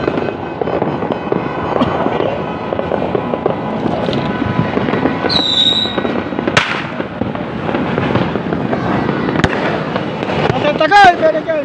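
New Year's midnight fireworks and firecrackers crackle and bang continuously, with sharp bursts and a whistling rocket near the middle and a crackling flurry near the end, under talk and party noise.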